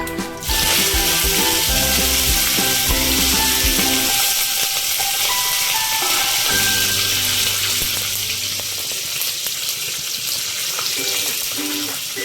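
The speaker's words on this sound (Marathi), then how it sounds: "आता ऍड करतोय कढीपत्ता।" Curry leaves hit hot oil already tempered with asafoetida for a bread cutlet masala, bursting into a loud, dense crackling sizzle that settles into a steady fry.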